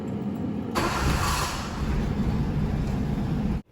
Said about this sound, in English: Replace the radiator cap back and let's fire her up and let the engine reach the operating temperature